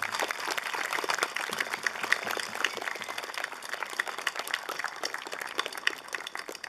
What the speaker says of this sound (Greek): Ένα μεγάλο χειροκρότημα αξίζουν όλα τα παιδιά που διάβασαν, που απήγγειλαν, που παρουσίασαν το χρονικό της μέρας.